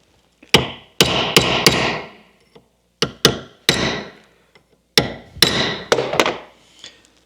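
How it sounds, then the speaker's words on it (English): Sharp metallic tapping as a hammer bends back the lock tab tangs on a Scout 800 steering box during restoration. Short clusters of crisp, close strikes are separated by brief pauses. "I must first bend back the tangs on the lock"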